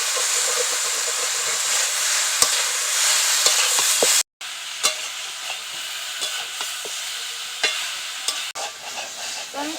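Pieces of elephant apple (chalta) fry in a pan for a pickle, giving a steady, close hiss and sizzle broken by sharp clicks and scrapes of stirring, with no talk.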